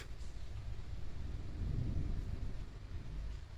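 Thunderstorm rumble rolls low and steady, a continuous deep roar with faint rain hiss above, swelling slightly in the middle and never quite fading.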